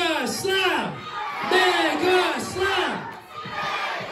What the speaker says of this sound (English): are we cheering for Team Nasty or Team